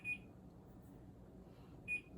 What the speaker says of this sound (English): we're going to put 10 minutes on the timer